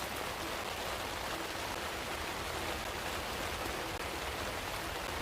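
Light rain falling before a storm, a dense, even hiss of drops on surfaces that continues without pause, moderately loud and close, with no one speaking.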